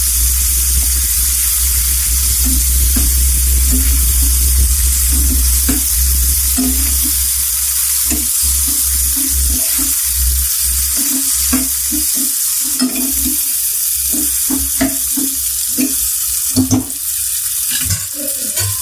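Tomatoes frying in a pan with a spoonful of salt for a tomato egg curry, a loud steady sizzle with repeated stirring scrapes and clatters running throughout.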